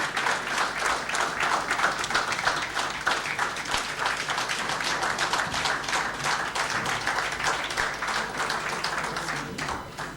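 An audience at a 2018 lecture claps steadily in sustained applause, a dense even patter of many hands filling the room from start to finish, fading slightly at the very end.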